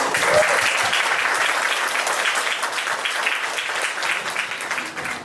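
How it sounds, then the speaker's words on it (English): A book launch audience in Vancouver gives a warm round of applause, a continuous bright patter of many hands clapping together, fairly close and even throughout. "if we could give her a round of applause"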